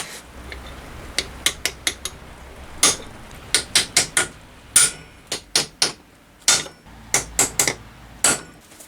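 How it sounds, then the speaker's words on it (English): Hammer taps on metal panel work during a Triumph restoration, roughly twenty sharp, ringing strikes in small clusters of two to four with short pauses, fairly close and alone with no talk. "Tap gently with hammer."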